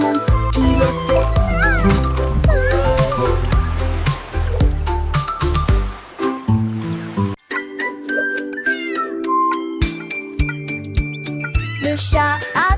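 A cartoon cat meows repeatedly in a French children's nursery-rhyme song, its rising and falling cries mixed with bright, busy music and tinkling accompaniment.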